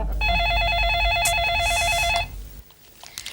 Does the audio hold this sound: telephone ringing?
yes